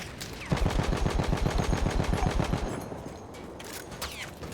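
Rapid bursts of M1909 Benet-Mercie machine gun fire in Battlefield 1 in the Sinai Desert, a steady string of sharp, loud shots for about two seconds, then fading into distant battlefield noise.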